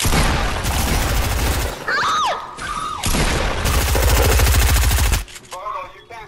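Bursts of rapid automatic gunfire in an online shooter game, loud and close, in long sustained volleys broken by short pauses, with a voice and game sounds between them.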